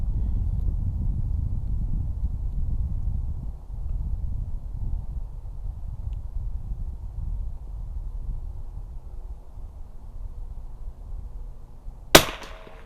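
A single sharp crack of a 1952 Remington 513-T rifle at an outdoor shooting range comes near the end, after a long stretch of low wind rumble with no talking.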